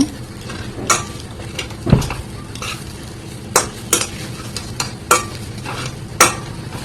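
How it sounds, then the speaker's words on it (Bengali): Semolina snack mixture spiced with chaat masala is stirred in a pan, with repeated scraping clinks of a spoon against metal over a low sizzle, close and fairly loud, no talking. "এখন ভালোভাবে এটা নেড়ে চেড়ে নিয়ে নেব।"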